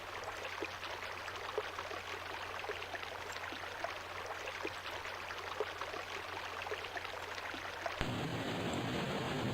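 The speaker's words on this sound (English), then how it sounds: "That's a lot of waterfall." A video game waterfall sound effect plays as a steady, faint rushing hiss of water that shifts in tone abruptly near the end.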